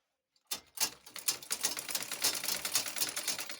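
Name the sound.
sewing machine stitching an abaya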